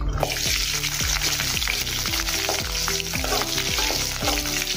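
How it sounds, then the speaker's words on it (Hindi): Ginger, garlic and green chilies fry in oil for stuffed bitter gourd: steady oil sizzle and frying crackle with occasional stirring scrapes, close and continuous throughout, no voices. "इसमें भी हम अदरक, लहसुन और हरी मिर्च डालेंगे"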